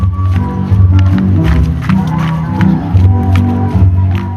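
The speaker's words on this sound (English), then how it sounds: "The slippers hitting concrete do sound like a flock of birds, with beaks clicking and clapping in unison" Street dancers' slippers slapping concrete in unison during a city dance festival in Masbate City, a loud, rhythmic patter of clicks and claps over crowd noise and music.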